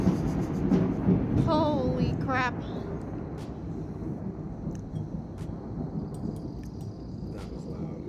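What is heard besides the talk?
thunder during a storm, rain starting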